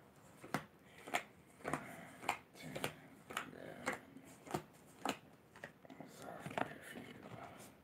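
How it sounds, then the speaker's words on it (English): A deck of cards is shuffled by hand, giving a series of crisp riffling bursts at a steady rhythm, close and quiet, with faint talk underneath. "Wait, one more shuffle."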